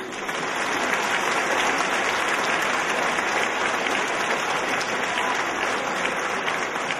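Loud, sustained applause from a pageant audience cheering the Miss Orléanais contestants, a dense wash of clapping that holds steady from start to finish with no voices standing out.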